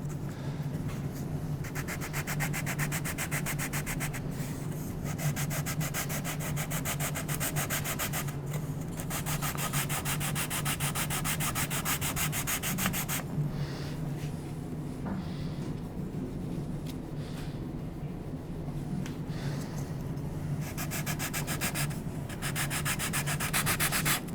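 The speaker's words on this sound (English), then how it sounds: "Let's keep scratching and rubbing and planing here" Adirondack spruce guitar braces being scratched, rubbed and planed in a workshop, a continuous close abrasive rasping in long strokes with short pauses between passes, and no voices.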